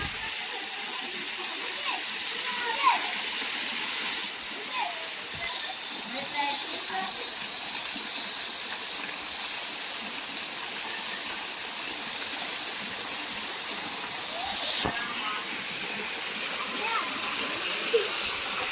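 Tumiis Falls waterfall in Villa Norte, a constant broad rushing roar of falling water close by, steady throughout with faint splashes and people talking now and then.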